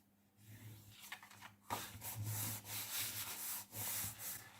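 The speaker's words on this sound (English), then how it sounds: "We'll just burnish that in place." Paper flap on a handmade mini album being burnished into place, a soft dry rubbing and scraping in short strokes, close and fairly quiet, with a couple of firmer passes midway.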